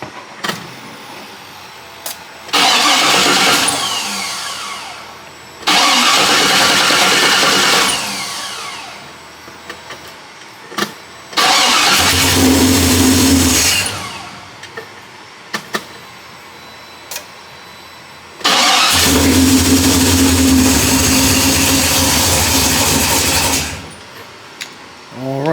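A 1973 Impala's 406 small-block Chevy engine, just repaired, cranks in four loud, close bursts of several seconds each, with short pauses between, and no voices.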